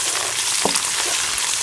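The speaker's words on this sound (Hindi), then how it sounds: "ये 2 चम्मच लहसुन अदरक का पेस्ट है ये शामिल कर लूँगी और इसे भी प्याज के साथ फ्राई कर लूँगी।" Garlic-ginger paste frying with onions in a pan for matar pulao, a steady close hiss of sizzling oil with a faint stir or clink partway through.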